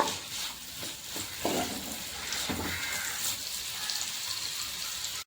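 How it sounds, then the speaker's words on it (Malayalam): Sliced onions sautéing in a pan with curry leaves for a snakehead murrel fish curry, giving a steady soft sizzle and crackle that runs throughout, faint and close, with no talking. "ഇനി ഇതെല്ലാം കൂടി നന്നായിട്ടൊന്ന് വഴറ്റിയെടുക്കാം"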